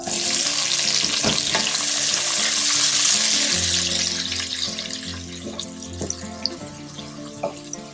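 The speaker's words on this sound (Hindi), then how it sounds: "प्याज हमने इसमें ऐड कर दिया है और इसको तब तक पकाएंगे जब तक कि प्याज का खूबसूरत सा कलर ना आ जाए।" Onions fry in oil with whole spices for a mutton curry made with yogurt, a steady hissing sizzle with some clinking of utensils and a low hum under it.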